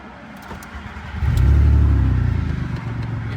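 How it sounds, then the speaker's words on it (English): A Mk4 Volkswagen engine cranks over and catches after about a second, then settles into a loud, steady idle with a rhythmic pulse, heard up close from inside the car. "I'm going to start the car."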